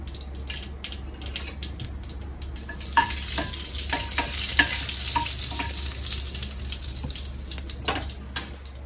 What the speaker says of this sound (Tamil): எண்ணெய் காஞ்சிடுச்சு. கடுகு போடுறேன். பட்டையும் பிரிஞ்சி இலையும் போட்டேன்.